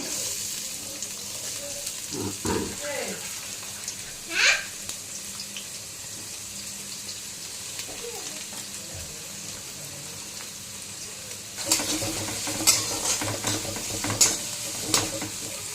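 Onions frying in oil give a low sizzle with occasional stirring knocks, and a brighter, busier burst of frying arrives near the end, close and moderate in level.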